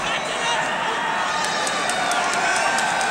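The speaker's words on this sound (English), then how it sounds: "a special cheer coming now for Jim Barry, who's coming up onto the rostrum" Large crowd cheering and applauding at the 1966 All-Ireland hurling final between Cork and Kilkenny, a steady dense roar filling the stadium throughout without pause.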